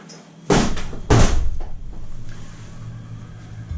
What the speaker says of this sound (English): Gotta close the door for the chickens.